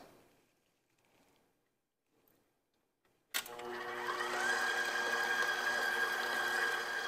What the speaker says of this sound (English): Just play with the control on the mixer just so you get all the way around.